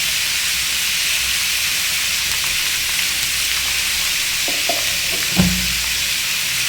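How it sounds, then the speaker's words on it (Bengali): Pumpkin fry seasoned with salt and turmeric sizzles steadily in a pan with a broad hiss, while a few scraping stirs and a louder clack near the end sound close by, with no talking. "এবার ওটাকে ভালোভাবে নেড়ে চেড়ে মিশিয়ে দেবো।"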